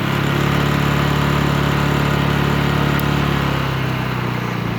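A portable gasoline generator runs at full throttle with its eco mode switched off, a loud, steady, close mechanical drone with a constant hum that holds evenly throughout, with no voices.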